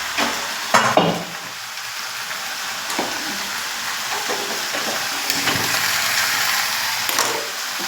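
Chicken meat being braised in a pan, sizzling and frying steadily with intermittent scraping and stirring clatters from a utensil, close and continuous at moderate loudness, no talking.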